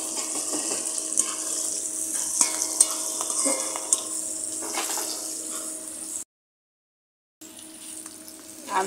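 Whole garam masala of cinnamon, cardamom and cloves with bay leaves fries in a pan with a bright, steady sizzle and a few utensil clinks, interrupted by a brief silent gap.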